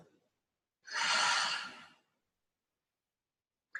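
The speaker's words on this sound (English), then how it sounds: "stop tapping and take a deep breath. And let it go." A single deep breath, drawn in and let out as one broad, airy exhale of about a second, close and clear and followed by quiet, during a relaxed EFT tapping session.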